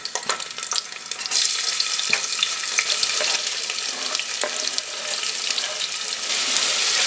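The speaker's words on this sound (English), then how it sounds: "we'll cook these onions till they become soft and change their color" Chopped onions and garlic frying in hot oil with cumin seeds and peppercorns give a dense, loud, steady sizzle and hiss, with scattered spoon clicks as the mixture is stirred close up.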